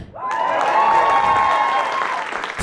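Comedy club audience in Karlstad bursts into steady applause, dense clapping rising quickly and holding loud before breaking off abruptly near the end, with no talk over it.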